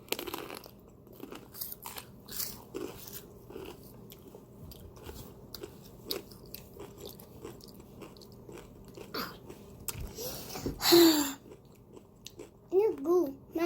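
Loud, close crunching and chewing of Takis-coated jalapeños stuffed with cream cheese, with bites and chews coming in bursts while people talk quietly between them.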